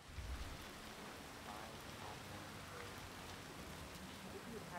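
Steady rain falls outdoors in the Hitman stealth game, a continuous close hiss of drops spread evenly across the whole stretch with no pauses.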